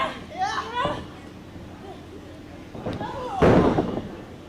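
A body slammed onto a mat in a women's wrestling snapmare lands as a sharp, heavy thud, with an earlier lighter impact, amid excited crowd voices and commentary.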